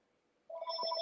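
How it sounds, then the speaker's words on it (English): A home telephone starts ringing with a steady electronic trilling tone, fairly close and alone in a quiet room. "that phone's ringing"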